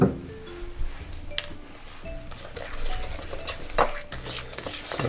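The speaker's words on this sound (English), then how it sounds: "we're just beating in our egg with our sugars" Egg being beaten into sugars in a bowl for Korean sesame cookie dough: close, irregular scraping and clinking of a utensil against the bowl, with a few sharper knocks and no speech.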